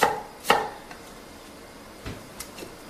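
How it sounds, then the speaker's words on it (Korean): A knife slicing peeled garlic into 1 cm thick slices on a cutting board, with two sharp cuts early and a few fainter taps afterward, otherwise quiet. "마늘 편 썰어서 준비를 해주시고요"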